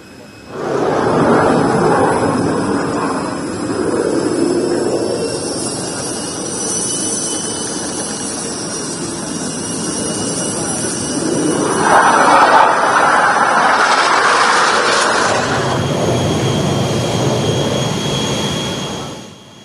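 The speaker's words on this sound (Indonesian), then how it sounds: "Pesawat Kerajaan Jordania Hashimiyah mendarat di Lanut Halim Perdana Kusuma pada Jumat sore kemarin." A Jordanian royal aircraft lands at Halim Perdanakusuma airbase, giving a loud, continuous jet roar with steady whining tones that swells and shifts partway through and persists to the end.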